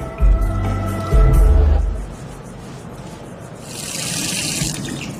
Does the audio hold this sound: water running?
yes